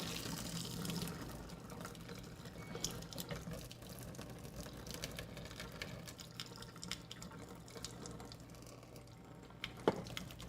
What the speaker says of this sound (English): Get all this water out.